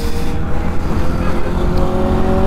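A superbike fitted with an aftermarket silencer roars loud and close, its exhaust note climbing as the engine revs through the whole stretch.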